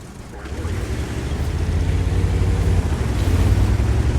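A T57 Heavy tank in World of Tanks pushing through water, a steady loud low rumble of engine and churning water with washing surf-like noise building gradually, no voices.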